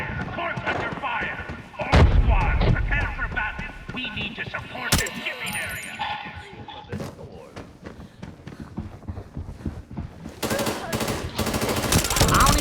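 Bursts of automatic gunfire from a shooter in the video game Arena Breakout, loud and rapid with scattered single shots, heard alongside a player talking.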